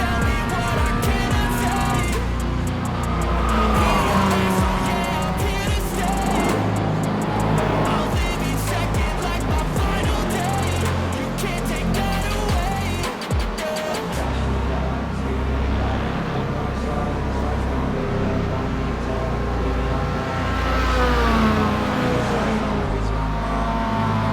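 Race car engine in the iRacing simulator droning loudly throughout, with a rising and falling pitch and rough scraping as the car runs off the road, while a voice talks over it.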